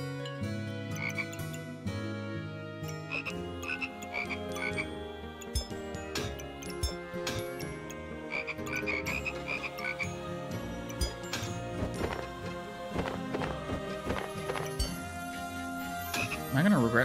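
Toads in the Backpack Battles video game croak repeatedly, layered with game music and clinking item effects in a steady busy mix that runs throughout, with no voices.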